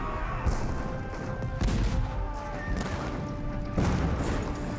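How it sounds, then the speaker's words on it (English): Heavy French cannon booms thunder again and again at irregular intervals during the bombardment of Yorktown, with sustained music tones running beneath the barrage. "The French cannon pound the British defenses day and night."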